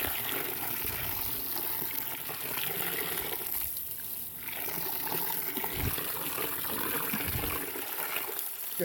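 Clothes rinsed by hand in water off-grid, with close sloshing and trickling splashes that swell and ease in an irregular rhythm.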